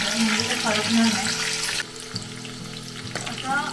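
Green chillies sautéing in hot oil in a pan for Maharashtrian kanda poha, a close sizzle that is louder at first and drops partway through, with occasional stirring scrapes.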